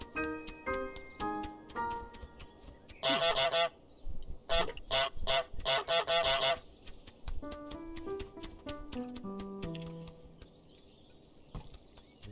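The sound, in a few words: goose honking in video game Untitled Goose Game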